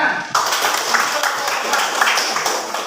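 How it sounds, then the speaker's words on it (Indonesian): Classroom audience clapping at a teacher-training session, a dense burst of many hands starting abruptly and continuing steadily and moderately loud, with voices mixed in beneath. "Tepuk tangan."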